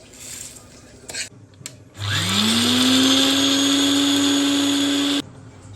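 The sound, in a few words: mixer grinder grinding ingredients for a hair-growth remedy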